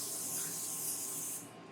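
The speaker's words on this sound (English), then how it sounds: "take your cooking spray and spray your first tortilla" Cooking spray misted from a can onto a tortilla in a home kitchen, a single continuous close hiss that holds steady for over a second and then cuts off abruptly, with no talking.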